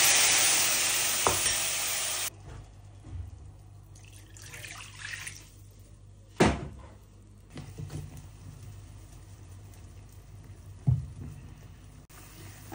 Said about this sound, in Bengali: এখন প্যান বসাই দিছি, এখানে তেল দিয়ে দিছি, তেলটা গরম হয়ে গেল। আর এই যে জিরা আর তেজপাতা দিয়ে দিলাম।